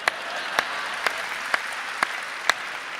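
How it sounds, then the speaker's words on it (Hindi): An audience claps in a broad, steady wash at a Hindi poetry recital, with several sharp louder claps standing out at regular intervals throughout. "ताली बजाओ, सांस लेना है।"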